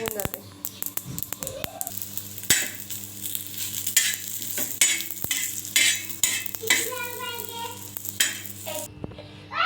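Spices and poppy seeds roasting with a little oil on a tawa: steady sizzle with repeated sharp clinks and scrapes of a metal spatula, fairly close and loud, with some background voices and noise.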